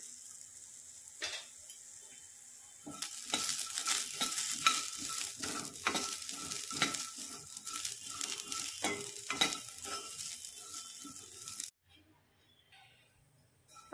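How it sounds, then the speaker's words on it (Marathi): Sweet corn kernels roast in a hot pan and are stirred, first a quiet stretch, then a steady sizzle with repeated scraping strokes for several seconds before the sound cuts to near silence. "असा मक्का भाजून घ्यायचा आहे आपल्याला।"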